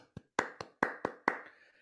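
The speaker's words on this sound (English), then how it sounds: "Everybody, clap your hands." A handful of crisp hand claps, five or six in a quick, slightly uneven rhythm, close and clear with nothing else around them.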